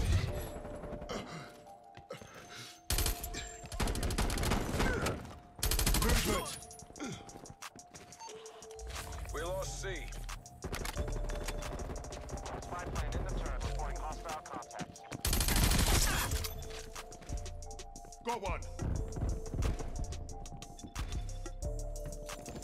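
Call of Duty Cold War multiplayer gunfight: bursts of automatic rifle fire and single shots come and go over a steady game backdrop, with someone talking over parts of it.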